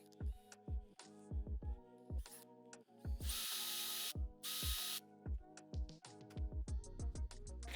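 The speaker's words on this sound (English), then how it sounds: "You just want to drill a small hole with the smallest drill bit you've got in your drill set." A power drill with its smallest bit bores a small hole in PVC, whirring in short bursts, starting and stopping repeatedly, with two longer hissing runs in the middle; close and fairly quiet.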